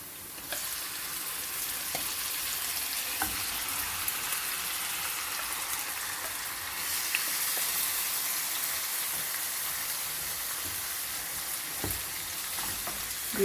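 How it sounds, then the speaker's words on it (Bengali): Marinated beef frying in a pan, a steady hissing sizzle like soft rain that swells slightly partway through, with occasional faint clicks. "এখন এর মধ্যে আমি দিয়ে দেবো আগে থেকে ম্যারিনেট করে রাখা মাংসগুলো।"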